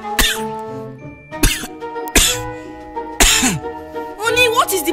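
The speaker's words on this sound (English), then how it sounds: "So just start coughing." Several harsh, forceful coughs come at roughly one-second intervals, each a short sharp burst, with a brief vocal sound near the end.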